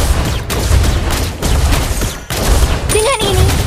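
Loud rapid gunfire from Layla's weapon in the Mobile Legends game bursts in quick fusillades, punctuated by brief gaps and a short electronic chime near the end.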